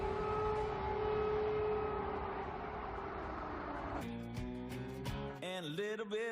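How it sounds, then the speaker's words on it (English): Air raid sirens wail over Kyiv, Ukraine, a sustained distant rising-and-falling tone that gives way to music with singing. "Air raid sirens ring out on Ukraine's capital."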